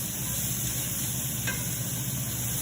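Pork for tacos chars and sizzles steadily in a hot pan, with a continuous close frying hiss and soft scraping as the meat is stirred around.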